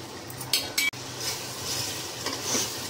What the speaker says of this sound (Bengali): দইটা দিয়ে কিছুক্ষণ কষিয়ে নেব